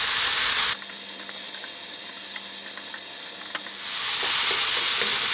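Chicken and broccoli stir fry sizzling steadily in a pan after a splash of water and fish sauce go in, a continuous close hiss with a few soft clicks of stirring, no voices.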